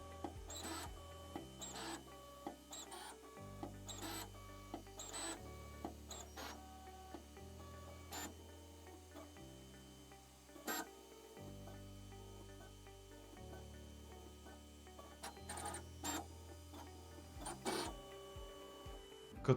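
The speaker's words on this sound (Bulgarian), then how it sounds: "принтерът в момента няма никакви странични звуци, както и принтира изцяло без проблем" 3D printer running its calibration before printing, with stepped motor whines changing pitch every second or so and occasional short clicks and taps, steady and close with no voices.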